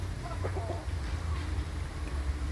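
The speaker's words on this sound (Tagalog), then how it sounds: "May manok. May pato." Penned chickens and ducks kept together behind netting, with faint scattered clucks over a steady low background hum.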